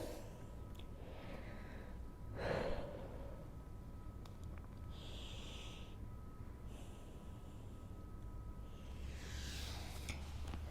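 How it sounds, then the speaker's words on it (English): Deep breaths during a side-lying pregnancy workout: a few slow, close inhales and exhales spaced several seconds apart, with one fuller breath early on, over a quiet, slightly hissy room. "So 3 to 4 big deep breaths here."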